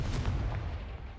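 A Confringo blasting spell in Hogwarts Legacy bursts with a muffled, booming explosion, a short low thump with a quick pop at the start that fades quickly, no talking.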